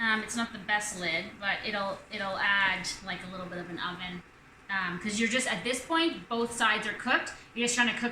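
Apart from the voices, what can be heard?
No distinct noise like a dog, phone or traffic.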